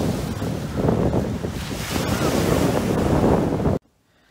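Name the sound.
sea waves on the beach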